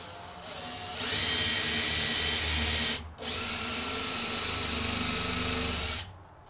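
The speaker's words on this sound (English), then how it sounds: "I'm happy to drill into it. But what I want to do is drill a little bit" A power drill whirs loudly in a close, steady burst, countersinking into wood, stops briefly, then drills again for a few more seconds before cutting off.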